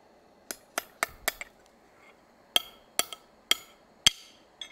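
A hammer strikes a rivet during a forging demonstration, about nine sharp metallic blows in irregular clusters, close and ringing, with no talk.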